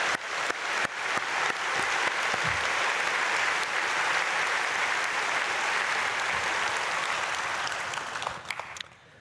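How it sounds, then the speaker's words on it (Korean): Congregation applauding to bless a combined church choir of youth, college students and children after their hymn at a dawn prayer service; sustained steady clapping fills the hall for about nine seconds before fading out. "박수로 축복하겠습니다."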